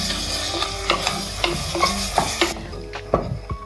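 Tomatoes sauté for biryani in a hot pan, a steady close sizzle with repeated spoon-stirring scrapes and clinks at an irregular rhythm, with no speech.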